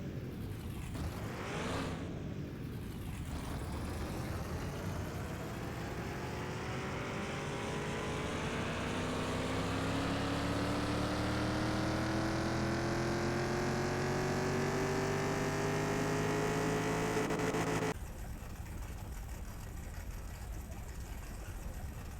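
A Ford GT40 engine on a dyno power test in Car Mechanic Simulator 2021 revs up in one long, steadily climbing roar that holds loud and strong, then cuts back sharply to a lower idle near the end.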